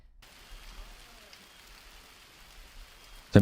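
Severe hail falling during a storm, a steady dense hiss of impacts spread evenly throughout, moderately loud, ending in a sudden louder burst.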